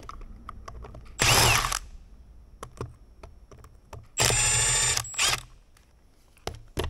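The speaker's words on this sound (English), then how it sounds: "Now I'm just zipping them out with the power gun." A power impact gun zips fasteners out of an OM642 diesel engine, two loud close bursts of whirring and hammering, each about half a second to a second, separated by quiet handling clicks.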